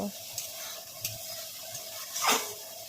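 A Bengali spice masala with turmeric, salt, sugar and Kashmiri chilli powder is stirred in a pan, giving soft scraping strokes and a faint sizzle, with one louder scrape near the end.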